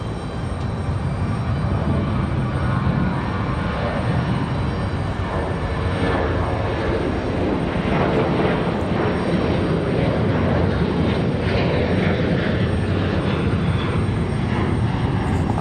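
Boeing 737-800 taking off at Raleigh-Durham airport, a loud continuous jet engine roar with a rough rumbling texture, steady and close throughout, with no talk.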